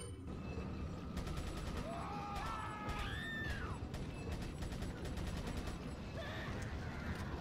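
Gunfire from a pistol in the video game Resident Evil 4, with rapid sharp bursts and mechanical clicks mixed into dense game sound effects and tonal chirps, continuous and busy.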